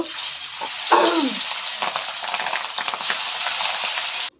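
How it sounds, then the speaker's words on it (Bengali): Fish coated in salt and turmeric fries in hot oil with a loud, continuous sizzle and spatter, a brief sharp squeal near the start, close by, ending abruptly. "এবার মাছগুলো আমি ভেজে নেব"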